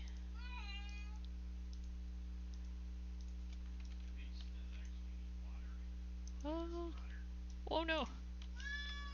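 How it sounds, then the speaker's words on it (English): A pet cat howls and meows in a few drawn-out calls near a computer, heard over a steady electrical hum and faint keyboard clicking, with a brief spoken remark in between. "cat is howling at me."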